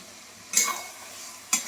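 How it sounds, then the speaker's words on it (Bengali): Lightly fried eggplant pieces go into a poppy seed masala and are stirred in a pan, with a low sizzle broken by two quick, close scrapes about a second apart. "এবারে আমি একটা একটা করে বেগুন এর মধ্যে দিয়ে দেবো।"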